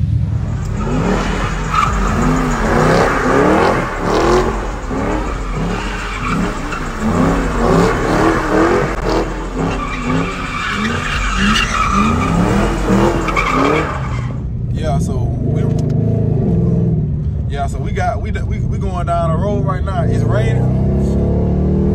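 A 5.0 car drives in the rain with a loud, steady engine roar and tire skidding for about fourteen seconds, then fades to quieter road noise with sporadic engine sounds.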